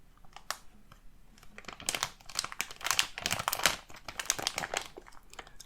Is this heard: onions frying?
no